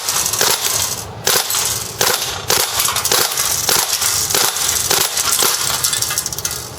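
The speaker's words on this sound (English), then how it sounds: "Let's empty another mag and do it in full auto." A WE G36c gas blowback airsoft rifle fires BBs in full auto, producing loud, sharp, rapid cracking shots in close succession with short breaks between bursts, close to the listener with no talk.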